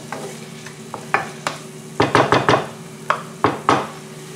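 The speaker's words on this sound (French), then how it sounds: "Et maintenant je vais faire revenir l'ensemble environ 15 minutes, jusqu'à ce que l'ensemble soit bien réduit." Ground meat mixture sautéing in a pan for brick pastry triangles, a bright close sizzle broken by repeated sharp stirring scrapes and taps of a utensil against the pan, no voices.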